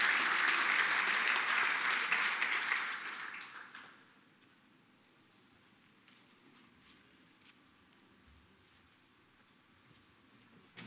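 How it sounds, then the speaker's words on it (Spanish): A crowd applauds loudly for a mining company delegation receiving an award, the clapping fading out after about four seconds into a quiet room with faint scattered taps. "Un aplauso para ellos y su delegación"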